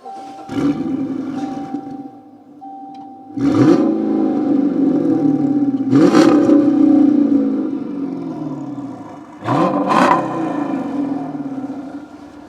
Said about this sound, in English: stock exhaust with a couple of resonators deleted, and you should hear what this thing sounds like